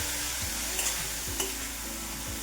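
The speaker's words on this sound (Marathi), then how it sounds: "आता साखर विरघळेपर्यंत आपल्याला पुन्हा बीट परतून घ्यायचंय।" Beetroot and sugar being stirred and sautéed in a pan for halva: a constant soft sizzle, with a spoon scraping the pan in several slow strokes and a couple of light clinks, no voices.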